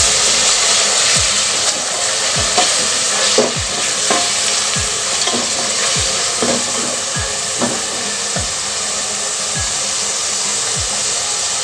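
Onion and spice paste fry loudly in hot oil for a vegetable biryani, a dense continuous sizzle with a spatula scraping the pan in regular strokes about once a second, close up and with no speech.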